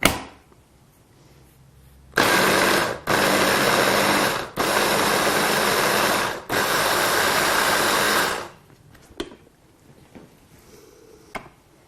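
A food processor whirs through pesto sauce with garlic in three loud, steady bursts separated by short pauses, then stops, leaving a few faint clicks and handling sounds.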